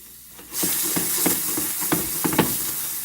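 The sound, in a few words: finely cut onions frying in a pan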